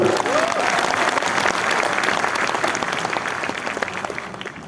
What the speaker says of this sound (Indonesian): Kita berikan tepuk tangan juga.